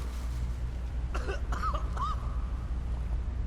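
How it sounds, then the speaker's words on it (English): A few short, raspy coughs from a choking character in Skyrim, in a quick cluster, with a low steady hum underneath and no talking. "we're choking and coughing"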